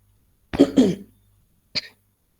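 A single person coughs twice in a quick pair, then gives one shorter cough a moment later, close and clear in a quiet room.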